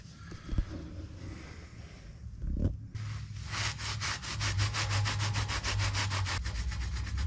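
Coyote Cobra parts being scrubbed by hand to strip rust and grime, starting as a soft rubbing and turning after a brief knock into rapid, even back-and-forth scraping strokes, close and steady.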